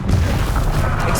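Bombarda spell explosion in Hogwarts Legacy: a loud, dense boom with a rumbling low blast that fills the whole short moment, close and heavy.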